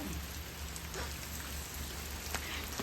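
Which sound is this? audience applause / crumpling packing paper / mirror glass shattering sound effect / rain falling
rain falling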